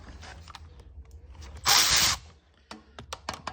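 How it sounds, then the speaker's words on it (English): A power tool whirs for about half a second while loosening a 10 mm bolt on a Suzuki DRZ400SM motorcycle, surrounded by close metallic clicks and handling noises in a quiet workshop. "I'm going to loosen these 10 mil bolts on both sides."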